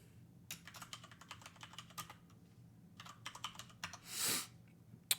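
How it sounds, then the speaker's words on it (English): A clunky computer keyboard clatters under steady typing, bursts of close, hollow keystrokes with short pauses, then a brief rushing swish and one last sharp click. "this is just kind of a whack sounding keyboard, just kind of clunky"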